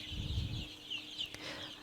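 Egyptian Fayoumi chickens clucking softly nearby at a poultry farm, a few short clucks and murmurs scattered over a couple of seconds, fairly quiet with no talking.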